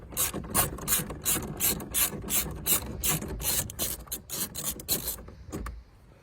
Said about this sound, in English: I've just got two more remaining screws so I can get the glove box undone.